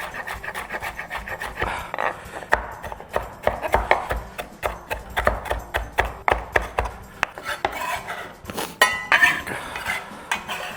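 Knife chopping fresh herbs for salsa on a cutting board, a rapid irregular series of close, crisp chops and scraping rasps, with no one talking.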